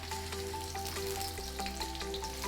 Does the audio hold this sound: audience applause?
no